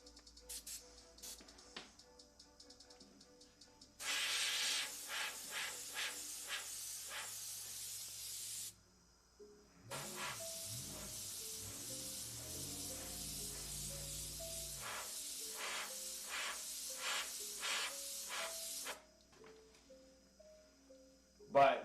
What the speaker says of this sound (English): Can I airbrush with one hand?